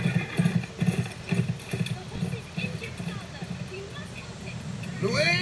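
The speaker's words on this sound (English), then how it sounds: "Look out! The horse is injured" Rhythmic clip-clop of an injured horse's hooves under voices in the audio game A Blind Legend, followed by a rising whinny near the end.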